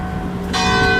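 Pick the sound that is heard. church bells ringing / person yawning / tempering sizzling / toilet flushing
church bells ringing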